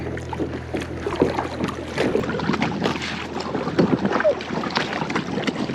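A kayak is paddled across a choppy lake, with rhythmic paddle splashes and water slapping the hull over wind buffeting the microphone.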